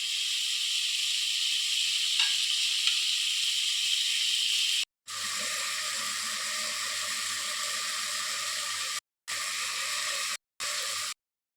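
Soaked rice, about half a measure after half an hour of soaking, poured with its water into a pressure cooker, a steady hissing pour that runs alone and breaks off in short pauses near the end.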